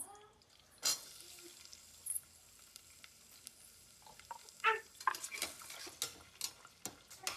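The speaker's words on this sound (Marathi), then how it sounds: "मस्त असा गोल्डन कलरचा कांदा होईपर्यंत भाजायचा आहे." Onions and green chillies frying in oil in a pan for misal, a faint low sizzle broken by scattered spoon stirs and clinks against the pan, no talk.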